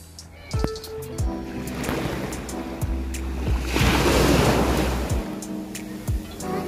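Rough sea waves crash and wash continuously onto Cagwait Beach in Surigao del Sur, a loud rolling surf with brief bursts of wind across the microphone.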